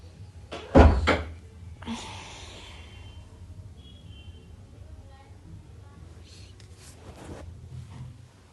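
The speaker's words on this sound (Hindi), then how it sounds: "ये दरवाजा बंद कर।" Door pushed shut in a room, a single loud thud followed by a little rattle, with people talking around it.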